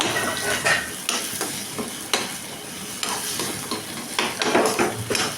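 Eggs mixed with chicken masala powder are beaten briskly in a bowl, producing a steady wet stirring swish punctuated by sharp clinks and taps of the utensil against the dish, close up and alone.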